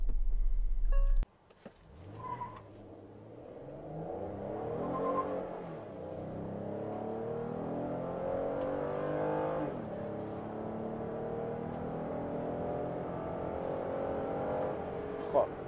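A 2022 Hyundai Staria van accelerates hard to 100 km/h, heard from inside the cabin. The engine note climbs steadily through several gear changes and stays moderately loud and continuous throughout.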